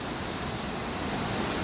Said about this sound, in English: that is another waterfall from this area